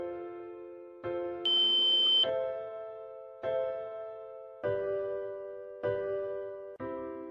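Samsung fingerprint door lock sounding a sequence of electronic tones, seven distinct beeps of shifting pitch at roughly one-second intervals, clear and close with no talk.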